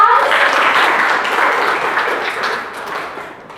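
Classroom applause after a teacher's prompt in a university teaching session, a steady wash of clapping from a group that stays loud and slowly thins over a few seconds.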